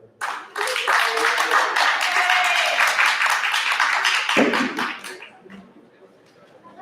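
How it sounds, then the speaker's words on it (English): Loud crowd applause and clapping fills the room for several seconds, then fades out, with a voice briefly heard near the end. "Let's hear it for Retriever."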